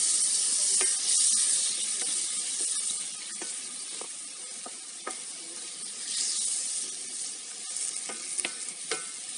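Meat for sac kavurma frying on a hot sac pan, a loud continuous close sizzle with hissing steam and occasional sharp crackles and pops, steady with no talking.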